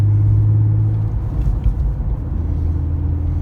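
A Porsche 911 Type 996 Carrera 4S with a naturally aspirated flat-six drones as a low, steady, close engine rumble from inside the car, easing slightly partway through.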